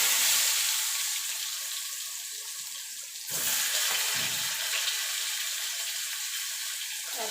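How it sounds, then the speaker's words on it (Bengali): Pointed gourd (potol) frying in hot oil: a loud, bright hiss that dips, then surges back stronger partway through and stays intense, close up. "এবার পটলগুলো ভেজে নেব।"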